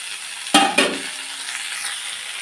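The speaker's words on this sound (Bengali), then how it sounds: "আর এই যে শাকটা দিয়ে দিলাম, আমি শাকটা সম্বার দেবো" Gandhabhadali greens, also called stink vine leaves, dropped into hot oil for tempering. Two sharp, loud bursts of sizzle mark the leaves hitting the oil, then a steady hissing sizzle fades gradually, with no talking.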